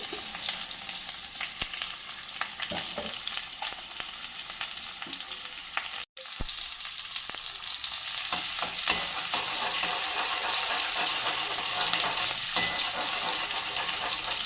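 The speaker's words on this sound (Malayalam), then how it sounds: "വെളുത്തുള്ളി ഇഞ്ചി ആദ്യം തന്നെ മൂപ്പിക്കോട്ടെ." Garlic and ginger fry in a pan with a constant crackling sizzle and occasional stirring scrapes, briefly interrupted by a short dropout midway before growing a little louder.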